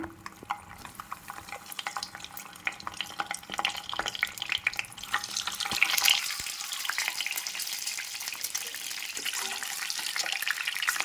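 Eggs frying in oil for a drumstick and tomato egg curry make a close, continuous crackling sizzle mixed with scraping stir sounds, rising briefly in the middle, with no voices.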